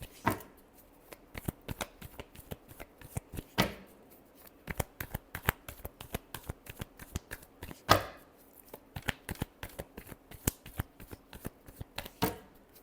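Tarot cards being shuffled over and over, a steady run of crisp riffling slaps and flutters with a few sharper snaps, close and clear with no talking.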